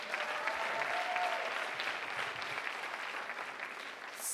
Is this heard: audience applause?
yes